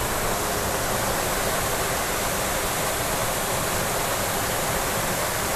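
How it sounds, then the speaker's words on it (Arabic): The Düden waterfall in Antalya, Turkey, heard up close as a loud, steady, unbroken roar of falling water that fills the whole clip with no other sounds. "هادي الشلال اللي شفتو معايا تما"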